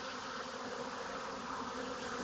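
Bees swarm inside a wooden beehive box with frames, making a dense, steady buzzing hum that stays close and even throughout, with no voices.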